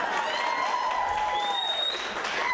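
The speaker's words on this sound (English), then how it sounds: "that deserves an applause." Audience applause at a stand-up comedy show, a steady dense clapping with some whistles and whoops over it, filling the whole short stretch at an even, fairly loud level.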